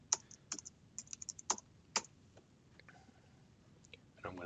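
Fingers type a password on a computer keyboard in quick bursts of crisp keystrokes, pausing briefly between groups, with a soft rustle at the very end.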